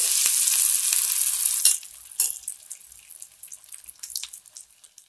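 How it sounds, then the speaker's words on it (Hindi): Cutlets made from leftover rice sizzle loudly in hot oil, a dense steady frying hiss for the first couple of seconds that drops to softer scattered crackles and pops. "इसी तरह से हम बाकी जो बना है उन सबको हम फ्राई कर लेंगे।"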